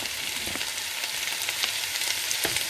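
Smoked bacon fries in a pan with a constant close sizzle, and a few sharper crackles and stirring scrapes break through now and then.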